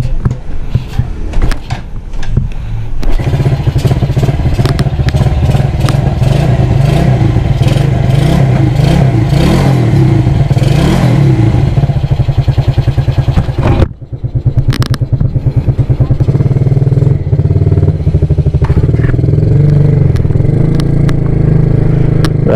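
A loud, tuned spec 57 motorcycle engine idling roughly, then revving hard and repeatedly, close by, with a brief drop before it settles into a throaty rumble.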